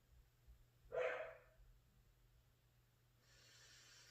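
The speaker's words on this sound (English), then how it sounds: "Don't mind my dog, I can't help it." A dog gives a single short bark, fairly faint in a quiet room, followed by a soft rustle of breathing noise.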